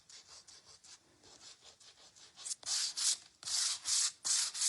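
Edges being sanded down by hand: steady back-and-forth rasping strokes, soft at first and then louder and harsher in the last couple of seconds, close and with no talk.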